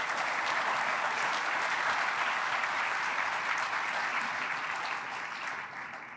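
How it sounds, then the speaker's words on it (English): An audience at a business brunch gives a sustained round of applause for event sponsors, dense even clapping that fills the room and tapers slightly near the end, with no talking. "We can please get a round of applause for their amazing support."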